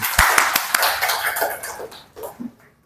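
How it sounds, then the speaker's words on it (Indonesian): Children in a classroom lesson clap after a correct answer: a short burst of sharp, close handclaps from a small group, loud at first and thinning out, ending with a brief voice. "Tepuk tangan."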